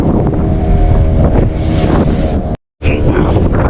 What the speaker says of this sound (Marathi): आज हवा खूप सुटले त्याच्यामुळे वेव्स खूप आहेत पाण्यामध्ये